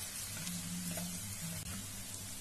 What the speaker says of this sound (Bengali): বাদামটাকেও ভেজে নিচ্ছি।